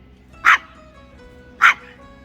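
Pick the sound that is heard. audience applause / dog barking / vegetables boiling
dog barking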